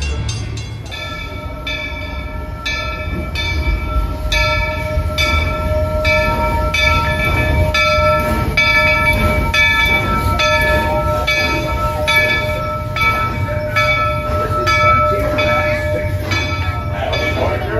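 A Walt Disney World Railroad train rolls into Frontierland Station, its loud, steady rumble joined by sustained ringing bell-like tones throughout, with no one talking.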